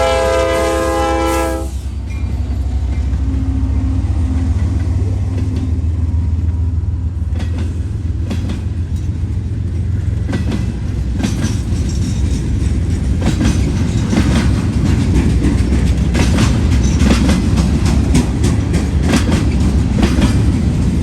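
A freight train led by an SD70MAC rebuild locomotive, with high cube boxcars, passes close by with a loud, sustained horn blast at the start, then a long steady rumble and rhythmic clatter of rolling cars.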